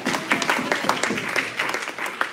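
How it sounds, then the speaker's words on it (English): Warm applause from a temple congregation at a Tu Bishvat seder service, many hands clapping at a moderate level with some scattered louder claps, steady for the whole stretch. "let's give Alicia a big round of applause"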